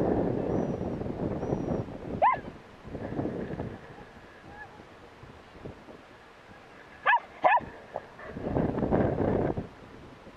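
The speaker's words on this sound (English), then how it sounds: "Good dog." A working dog outdoors gives a few short high yelps and whimpers between stretches of a man calling commands, with brief sharp cries standing out near the middle of the clip.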